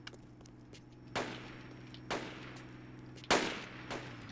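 Gunfire in a multiplayer shooter game cracks out as three sharp, fairly loud shots spaced about a second apart, each with a short decaying tail over a low background hum.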